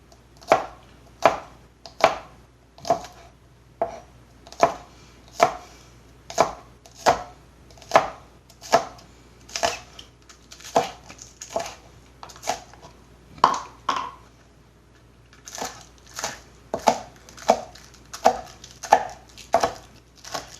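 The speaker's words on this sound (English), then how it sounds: "I guess I'm going to have to slice this up anyway and put it aside." Knife slicing ramen ingredients on a cutting board: a steady run of sharp, evenly spaced chops, about one to two per second, close and crisp with no talking, pausing briefly near the middle before resuming.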